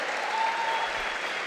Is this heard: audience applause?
yes